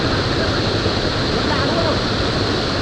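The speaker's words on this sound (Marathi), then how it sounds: "पुन्हा पावसाळी सर येते." A heavy monsoon shower over rushing floodwater in rural Konkan makes a loud, unbroken roar of rain and flowing water, steady and close throughout.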